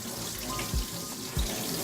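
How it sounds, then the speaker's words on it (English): Cold water runs from a sink tap over freshly tie-dyed fabric being swished around, a steady close rush with two soft sloshing thumps as the cloth moves. "I'm just gonna let the cold water run over it and kind of swish it around"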